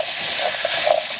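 Carrot pieces sizzle in a hot pan for a Japanese-style karê curry, giving a steady, close frying hiss with small crackling pops over about a second.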